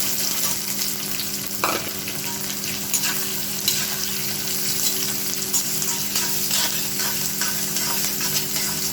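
Small onions sauté in a pan for a coconut milk prawn fry, with a loud, continuous close-up sizzle and occasional stirring scrapes throughout.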